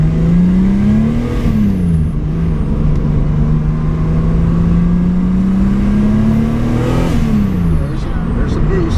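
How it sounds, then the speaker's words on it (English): A turbocharged Chevrolet Cavalier Z24 engine revs twice, rising and falling in pitch with a whirring turbo spooling up, loud and close over a rough steady idle. "Hear the turbo going?"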